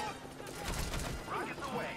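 Helicopter cover fire in the video game MGSV: The Phantom Pain, a burst of rattling gunfire and impacts mixed with radio chatter and a speaking voice, moderately loud and dense.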